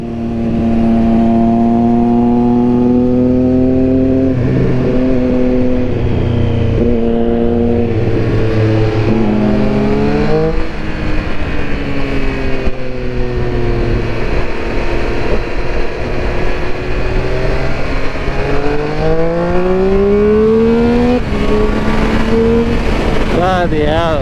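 A Triumph Speed Triple 1200 RS motorcycle accelerates hard in first gear, its engine note climbing in repeated loud rising sweeps, dropping back and pulling up again close by with no talking.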